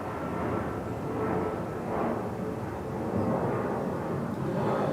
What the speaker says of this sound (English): Almost sounds like a fighter jet.